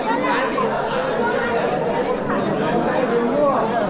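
Busy babble of a packed tourist crowd at the Golden Fort in Jaisalmer, many voices talking at once in a constant, close, even hubbub.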